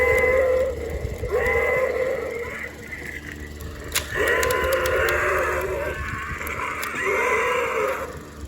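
Electronic roar from a 2005 Playmates King Kong Bull V-Rex dinosaur toy, a loud, harsh, bleating, growl-like call repeated in several bursts over a steady background hum.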